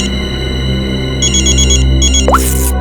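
A telephone rings steadily and loudly while someone calls an ambulance in a CID crime drama. The repeated electronic ring is heard in short bursts over a sustained tonal drone, with a brief swoosh near the end.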